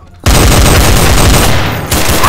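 Dense, continuous gunfire from a Garry's Mod gun game, loud and sustained for about two seconds after a brief quiet start, rapid overlapping shots with a short dip near the end before resuming.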